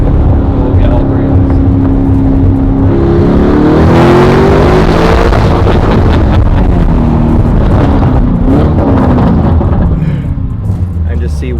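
Tuned 800HP Lamborghini Urus V8 with downpipe and stage 2+ transmission tune revving loudly and continuously, engine roar rising and falling with wind noise, while people talk over it.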